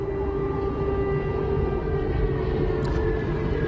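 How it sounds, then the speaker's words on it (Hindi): A steady, sustained siren tone drones on with a low rumbling background, continuous and fairly loud without any voices. "सन्नाटे को चीरता सायरन का ये शोर परेशान करता है लोगों को"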